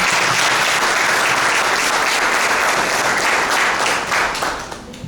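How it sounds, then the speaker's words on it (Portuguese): A seated audience breaks into sustained, dense applause for an invited priest at a talk, loud and even throughout before tapering off at the end. "Com alegria recebemos o Padre Flávio e uma salva de palmas."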